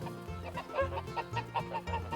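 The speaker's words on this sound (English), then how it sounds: "Chickens." Chickens on a Wiltshire smallholding cluck in repeated short bursts at close range, a busy overlapping flock sound with steady low background noise.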